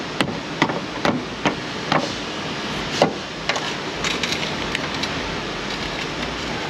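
Sharp metallic hammer blows strike the steering gear of a Ford Mustang GT with a 4.6 engine during front end work, about a dozen loud, irregularly spaced hits over a constant hiss.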